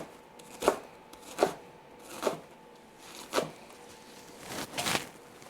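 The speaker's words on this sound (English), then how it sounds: "Then we'll give a rough chop to our capers." A knife gives capers a rough chop on a cutting board: six or seven soft, crisp thuds spaced under a second apart, close and fairly quiet, with no talking.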